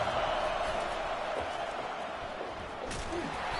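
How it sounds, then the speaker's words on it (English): A stadium crowd roars at a Minnesota versus Michigan football game, a steady, dense wash of cheering and noise that stays loud throughout, with no clear talk over it. "Listen to the crowd energy here in the early going."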